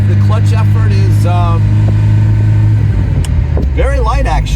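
A Ferrari Mondial Spyder's engine hums loudly from inside the moving car, a steady low drone that shifts pitch partway through as it revs, with people talking over it.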